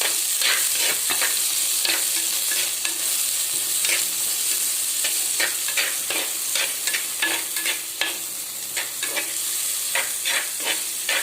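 Tomatoes sauté in a pan under a constant close sizzle, with repeated sharp spatula scrapes and stirs knocking at an irregular rhythm throughout.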